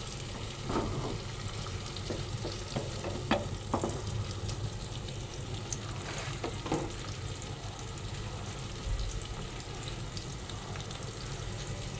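Small shrimp sautéing in a pan for a Bengali shrimp kosha, giving a steady, close frying sizzle with a few soft scrapes and stirring taps scattered throughout.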